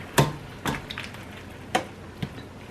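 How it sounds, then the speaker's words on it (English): Leftover taco meat and tomatoes cook in a pot with a soft, low sizzle, punctuated by a few sharp clicks of a utensil stirring and scraping, quiet and close. "Tomatoes are cooking down."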